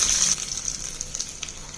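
Hot oil tempering of dried red chillies and curry leaves hits amaranth chutney with a short, bright sizzle. The hiss fades quickly into faint crackles as it is mixed in.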